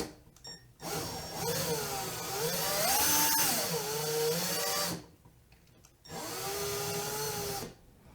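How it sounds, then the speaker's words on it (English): A power drill spins a reaming tool to remove the crimp from a rifle case primer pocket, whining steadily in two close, moderately loud runs with a short pause between them, its pitch shifting slightly as the load changes. "I probably need to put this on the drill"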